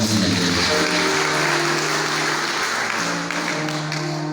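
A church congregation claps steadily during a prophetic healing service, a loud continuous patter of many hands, with faint tonal music sustained beneath it.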